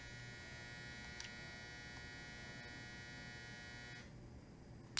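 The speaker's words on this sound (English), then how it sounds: "That was my washing machine." Household washing machine running in another room: a steady, faint electrical hum with a constant buzzing drone that shifts slightly near the end, heard alone without talk.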